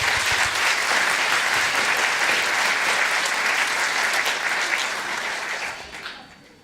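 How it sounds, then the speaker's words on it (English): An audience applauds a junior school choir from Whiteheath after it sings a river song. The close, full clapping is sustained and even before thinning and fading away at the end. "Round of applause for Whiteheath, please."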